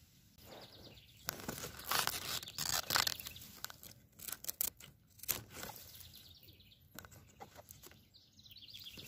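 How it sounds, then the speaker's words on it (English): Garden scissors snipping an iris leaf outdoors, with scattered close crunchy snips and leaf rustling in irregular bursts, plus faint bird calls in the background. "If you have a leaf like this, you can just cut it and it looks fresh."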